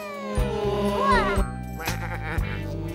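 A cartoon sheep bleats in a wavering, tremulous cry over a light, plinking children's music backing, followed by further short bleats.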